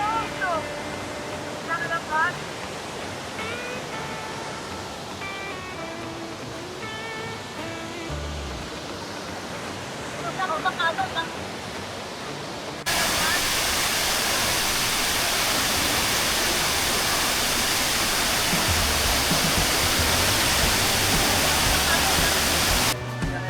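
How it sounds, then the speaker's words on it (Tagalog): Loud, steady broadband rush of Majayjay Falls, also called Taytay Falls, in Magdalena, Laguna, first heard beneath people chatting nearby, then swelling abruptly into a close, full roar of falling water. "nasa likod natin yung Maayhay Falls or also known as Taytay Falls"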